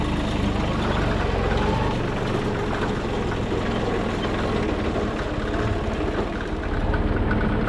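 A Multivator utility vehicle's engine runs steadily and loud throughout a ride across a farm field, with a constant rumbling drone and no pauses.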